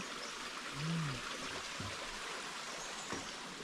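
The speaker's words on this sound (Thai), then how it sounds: "แบบลำธารเล็กๆอ่ะเล็ก ๆ มากๆอะไหลผ่าน" Soft, steady trickle of a small stream on the Kew Mae Pan trail, Doi Inthanon, under broad outdoor background noise, with a faint low animal-like call early on.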